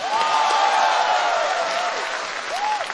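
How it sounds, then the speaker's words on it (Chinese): Studio audience in Shanghai applauding a Turkish fire dance troupe at a talk show taping, steady dense clapping throughout with faint tonal sweeps over it. "掌声鼓励。"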